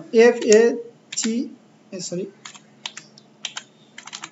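Computer keyboard typing in short, clicky bursts while a Facebook post is written, with a voice speaking over the first half and the keystrokes then heard alone.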